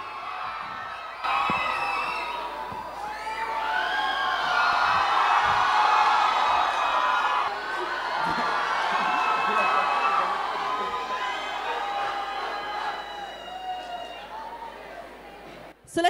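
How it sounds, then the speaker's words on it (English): Large concert crowd at Gardenia 2019 cheering, whooping and shouting loudly and continuously for about fifteen seconds, with a dense mass of voices swelling and then gradually fading. "Give him a huge round of applause"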